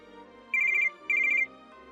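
A telephone rings nearby with two loud trilling electronic bursts, each about a third of a second long, separated by a short pause.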